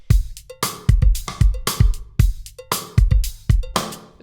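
A solo drum groove plays alone: punchy kick and snare hits in a steady rhythm with crisp, accented hi-hat strokes ringing between them, fairly loud and close.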